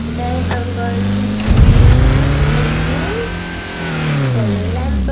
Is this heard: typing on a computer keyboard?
no